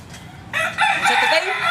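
A chicken clucks softly, then a rooster crows loudly and nearby in a long drawn-out call with a few clucks mixed in.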